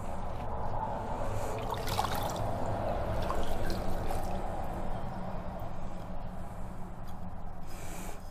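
Tap water runs steadily over a glass being rinsed, a constant broadband splash and trickle close by with no talking.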